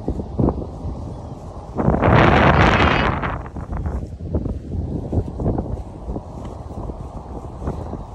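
Strong Hurricane Ian gusts buffet the microphone at landfall, swelling into a loud roaring blast before easing back to choppy, rumbling bursts.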